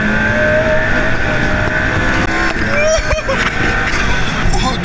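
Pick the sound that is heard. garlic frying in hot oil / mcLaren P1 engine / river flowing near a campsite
mcLaren P1 engine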